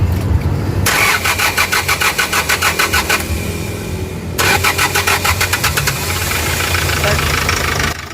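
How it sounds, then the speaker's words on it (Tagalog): A Hyundai Porter's engine cranks in rapid, loud starter bursts, pauses, cranks again, then catches and settles into a rough idle. The truck has an electrical grounding short, and a voice is heard briefly. "start mo yung makina na Brad."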